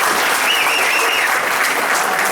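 Steady applause from a crowd, dense and continuous clapping at full volume throughout.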